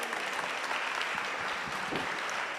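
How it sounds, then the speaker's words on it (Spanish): Sustained applause from a seated audience at a nutrition lecture, dense even clapping throughout, moderately distant, with a faint voice briefly underneath. "Aplauso para él nuevamente."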